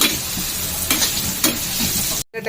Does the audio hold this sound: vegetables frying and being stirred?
yes